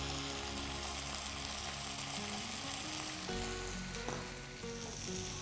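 Rice and moong dal for bhuni khichuri sizzle and fry in a pot, a steady close crackle with occasional stirring and no talking.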